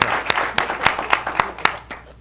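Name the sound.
audience applause at a business breakfast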